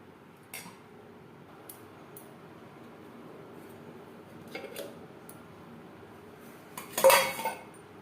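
Plates and cutlery clink a few times as food is served for a home-cooked Bengali vegetarian thali, with sparse, light clatters and a louder cluster of dish knocks near the end over a quiet room.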